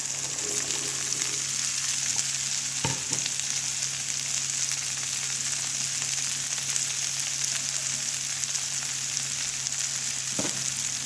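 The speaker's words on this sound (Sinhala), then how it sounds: "සෝදලා කපලා පිරිසිදු කරගත්ත ලීස් ටික" Washed, cut leeks frying in hot oil in a pan, a loud, even sizzle that hisses steadily throughout, with a couple of brief utensil knocks.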